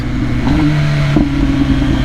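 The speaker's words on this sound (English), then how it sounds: "Has a nice overall sound from the engine. I like that inline 4 sound. The exhaust burbles." Inline-four engine of a 2021 MV Agusta Rush motorcycle with an ECU flash tune, a steady mid-pitched burbling drone from the exhaust with a brief rise in note partway through, close and loud throughout.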